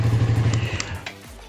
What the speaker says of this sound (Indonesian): jadi starternya itu akan terus muter sampai motornya benar-benar bunyi gitu